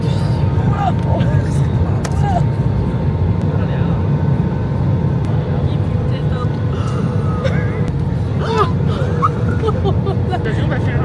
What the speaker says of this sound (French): L'avion va faire un truc lisse